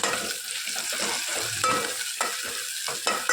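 Oil sizzles and crackles steadily as tomatoes, onions, garlic and green chillies fry in a pan, with occasional louder stirring scrapes and bursts; close and continuous, no voices.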